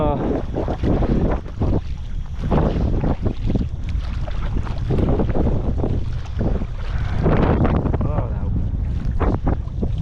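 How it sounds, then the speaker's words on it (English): Strong wind buffets the microphone outdoors near water, a steady roaring rush with gusty surges throughout, and no speech over it. "wind is killing me, man"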